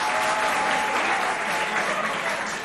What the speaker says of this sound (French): On les applaudit bien fort déjà.